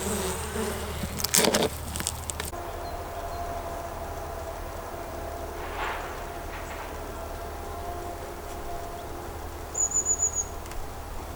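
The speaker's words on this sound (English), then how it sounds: "we know that we've got plenty of bees in here" Honeybees in a winter hive hum with a steady, close, low-level drone. Short louder bursts of buzzing come and go, and a single bee briefly passes near the end.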